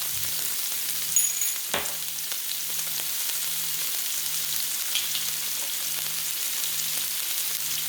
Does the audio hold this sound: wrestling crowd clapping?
no